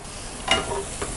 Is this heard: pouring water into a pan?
no